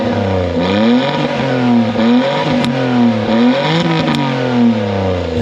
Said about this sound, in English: Just give it a couple revs here and then you hear it on the back as well.